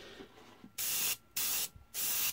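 An airbrush sprays paint onto tabletop miniatures in three short, even hissing bursts separated by brief pauses, close and clear.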